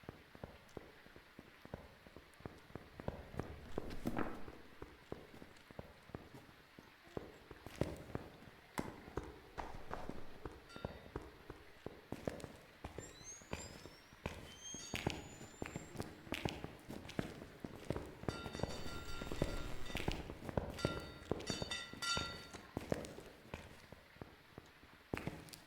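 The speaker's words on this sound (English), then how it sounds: "I can hear the footsteps from back here, so no Mylin." Rapid, repeated footsteps of a ghost in the video game Phasmophobia, thudding steadily throughout at moderate loudness amid game ambience, with brief electronic chirps and tones over the later part.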